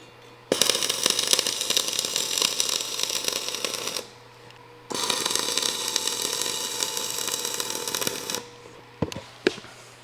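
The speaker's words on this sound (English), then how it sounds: "I am going to weld the inside corners on these" Welding on the inside corners of a steel plate rack, two long steady crackling, sizzling runs separated by a short pause, close and loud, followed by a few sharp clicks.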